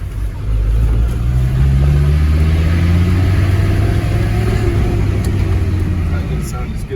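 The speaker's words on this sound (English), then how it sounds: "I'm just going to bring the window down a little bit so you can hear the engine note" A 1990 Mercedes-Benz G-Wagon 300GD of the 460 series rumbles with a loud, steady low engine drone heard from inside the vehicle, holding an even note throughout.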